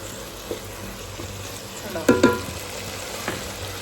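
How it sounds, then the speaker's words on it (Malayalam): Tomato being stirred in a pan while chicken curry is cooked, a soft background sizzle with a few brief scraping stirs, strongest in a close double scrape midway. "ഇതൊന്ന് മിക്സാക്കി കൊടുക്കണം തക്കാളി ഏകദേശം വന്ന് വന്നിട്ടുണ്ട്"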